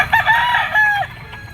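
A yellow-legged stag rooster crows once at close range at a pet market, a loud, drawn-out cock-a-doodle-doo lasting about a second over a low background murmur.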